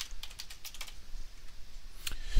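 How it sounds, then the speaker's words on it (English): Rapid keystrokes on a computer keyboard while searching for the command prompt in Windows, a steady run of light clicks with a few heavier taps near the end, close and alone. "you can do this by typing in directly into the start menu or search screen in Metro"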